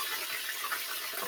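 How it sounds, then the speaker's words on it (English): Water poured into a pot of cooking beans, a short steady splashing gush that fills the moment at close range with no talk. "Yeah, I gotta put some water in this."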